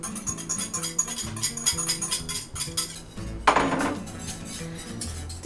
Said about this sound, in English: now we take our yogurt from our last batch and we mix it in with our hot milk